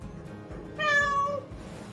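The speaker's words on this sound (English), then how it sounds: "So he narrates his life in meows" Blind cat meowing: one clear, drawn-out, slightly rising meow, close and alone over faint background noise.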